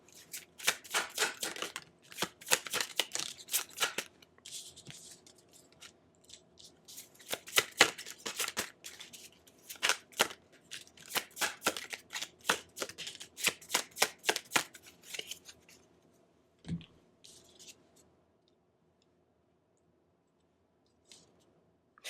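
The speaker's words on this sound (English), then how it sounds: "I want to pull out another card because I kind of want to see what we are kind of holding on to" Tarot cards are shuffled by hand in rapid, crisp riffling bursts over about fifteen seconds, close and clear, followed by a few isolated taps and near silence.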